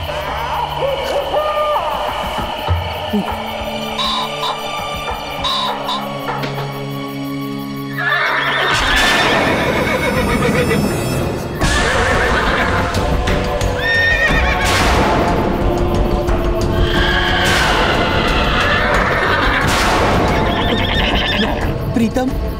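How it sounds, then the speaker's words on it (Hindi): Horses neigh and whinny loudly in repeated drawn-out calls over steady hoof clip-clop, layered with dramatic background music and sound effects. "यहाँ तो दूर दूर तक कोई घोड़े नजर नहीं आ रहे, तो ये घोड़ों की आवाज कहाँ से आ रही है?"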